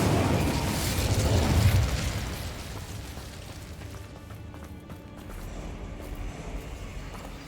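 Incendio fire spell cast in Hogwarts Legacy, a loud fiery burst and whoosh at the start that fades into lingering crackle and game ambience.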